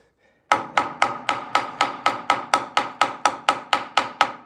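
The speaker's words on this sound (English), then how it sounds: "I'm hoping that by just kind of smushing it with this hammer, I'm accomplishing the same thing" A hammer strikes wood again and again to smash it into the seams of a curved waterfall joint during a furniture repair. Roughly fourteen sharp, evenly spaced blows land close and loud, with no talk over them.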